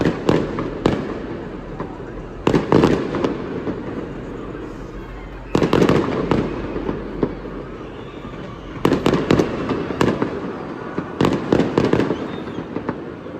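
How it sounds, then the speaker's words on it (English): Canada Day fireworks crackle and boom in repeated dense bursts of sharp pops and explosions, separated by quieter gaps with a low rumble. The bursts are loud and fairly close. "beer, and of course, fireworks."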